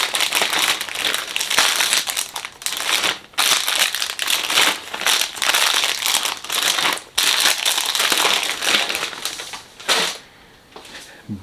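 Small plastic parts bags for a 1/5 scale Mercury chassis kit crinkle and rustle almost continuously as they are handled, loud and close with brief pauses.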